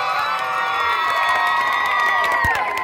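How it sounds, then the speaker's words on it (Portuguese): Carnival bloco crowd in Conceição, Paraíba cheering and whooping for a participant on the runway, a dense, loud roar of voices with high shouts and whistles sustained throughout. "Cadê as palmas pra Zefinha?"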